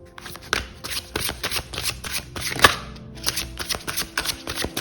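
Tarot cards shuffled in repeated quick riffling bursts, close and fairly loud, with a sharper snap near the middle and no talking.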